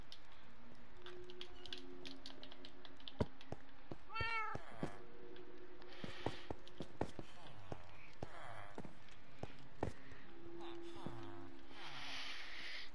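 Pet cats meowing indoors, with several short rising and falling mews scattered through the clip alongside light thumps and movement; a person talks intermittently between the calls.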